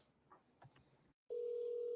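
A phone call's dialing sequence: faint soft clicks and rustle, a brief silence, then a loud steady continuous tone starts and holds to the end.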